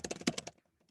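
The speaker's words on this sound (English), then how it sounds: "typing something" A quick burst of keyboard typing, about half a second of rapid clacking keystrokes, close and clear, then near silence.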